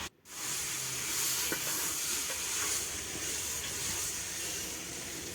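Haakh greens frying in mustard oil over a mud stove, a continuous broad hiss and sizzle close by, steady throughout after a short quiet start, with faint clinks under it.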